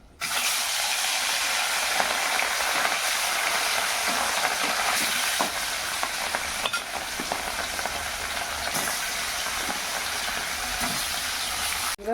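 Fish pieces fry in a pan with oil, a loud continuous crackling sizzle punctuated by occasional scraping and clicking stirs, close and steady with no talking.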